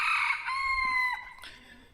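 Free-range chickens cluck close by while a rooster crows loudly in a long drawn-out call that fades toward the end, with no talking.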